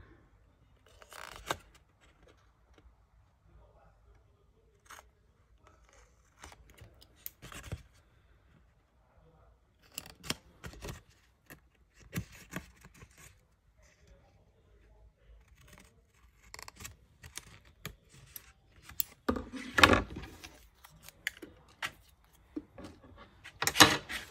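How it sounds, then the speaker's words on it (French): Scissors snipping paper rectangles for a scrapbooking 3D envelope: scattered short, crisp cuts and paper rustles close by, sparse early and growing busier and louder toward the end, with soft handling between. "je vais venir couper du coup les 2 rectangles aux extrémités"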